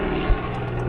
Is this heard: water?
no